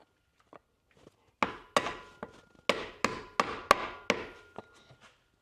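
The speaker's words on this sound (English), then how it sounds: "even with pry bar it's not going out so easy" Sharp metallic knocks as a pry bar works a stubborn part out of a BMW M6 F12 Getrag GS7D36BG DCT transmission, roughly eight close, loud strikes in an uneven rhythm with brief gaps, ringing off after each hit.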